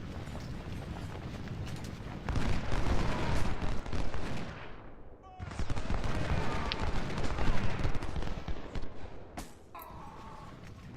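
Artillery and musket fire from a Civil War battle at 1st Winchester in Ultimate General: Civil War rumbles continuously, with dense booming volleys, a brief lull midway, then more sustained firing tapering off.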